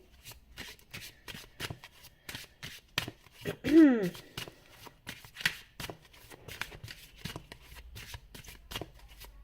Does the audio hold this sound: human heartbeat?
no